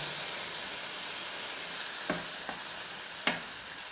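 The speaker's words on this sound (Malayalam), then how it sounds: "അടുത്തതായിട്ട് നമ്മൾ ശർക്കര ഒരുക്കി വെച്ചത് ഇതിലേക്ക് ഒഴിച്ചു കൊടുക്കാം" Jaggery syrup is poured into a frying pan and stirred into a soft wheat sweet, bringing a steady sizzle and frying hiss with a few sharp utensil taps and scrapes against the pan.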